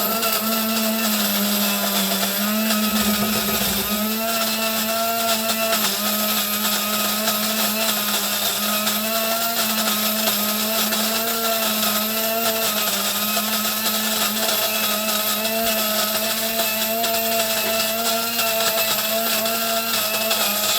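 Coffee beans being coarsely ground in an electric grinder, a loud, steady, continuous whirring buzz with a strong motor hum that holds its pitch for the whole stretch, with no talking over it.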